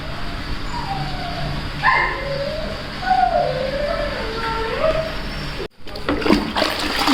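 A dog tied up outdoors yelps and whimpers in drawn-out, wavering cries, fairly close, over a steady background hiss like running water.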